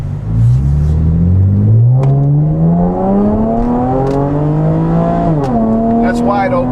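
A Camaro V6 fitted with an MRT Version 1 axle-back exhaust accelerates up a highway entrance ramp, its engine note climbing steadily in pitch, dipping briefly at a shift, then rising again, loud and close throughout.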